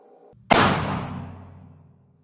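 One sharp, loud shot from a black-powder cap and ball revolver loaded with a .454 ball, a sudden blast followed by a long booming echo that fades over about two seconds.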